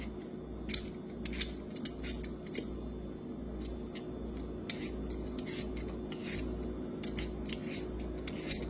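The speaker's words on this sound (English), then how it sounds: "What I do first is peel them with a potato peeler." Raw potatoes are peeled with a hand potato peeler, a series of short, crisp scraping strokes in an irregular rhythm, close and fairly quiet over a low steady room hum, with no talk.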